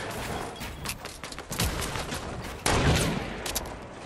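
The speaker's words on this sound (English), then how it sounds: "Oh, someone's shooting at me." Gunfire in a Fortnite Battle Royale match arrives as dense, overlapping shots and bursts with a loud jump in intensity midway, sustained and close throughout.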